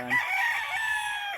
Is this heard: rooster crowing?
yes